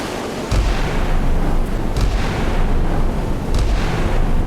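Naval guns fire in a Cold War naval combat video game: three or four heavy booms land at intervals over a constant low battle rumble, with no speech.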